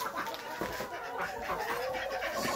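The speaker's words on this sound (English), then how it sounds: "So you can see chickens are just hanging out on their roosts, all puffed up." Chickens murmur and cluck softly while puffed up on their roosts inside a coop at -33F, with a steady, fairly close background of low hen chatter throughout.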